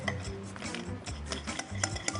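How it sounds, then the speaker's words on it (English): Wire whisk working softened butter in a bowl, a steady run of soft scraping strokes and light clinks close up, with no voices. "Break it up a little bit with a whisk."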